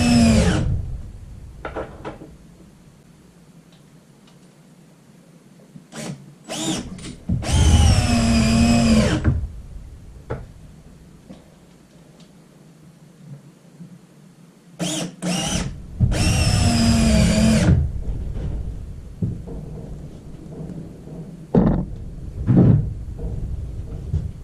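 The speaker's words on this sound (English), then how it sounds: "think my drill's starting to get run down" A cordless drill with a run-down battery drives screws into a wooden raised planter: several whirring bursts, two of them long and straining, separated by quiet pauses and a few knocks of wood and handling.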